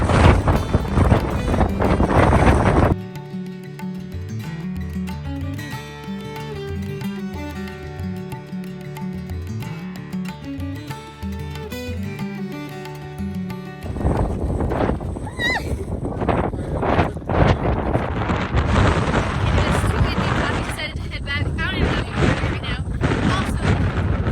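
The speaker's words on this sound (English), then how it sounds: "it's so windy" Strong wind roars and batters the microphone outdoors in Iceland's Golden Circle, broken by a stretch of music in the middle before the loud gusting returns.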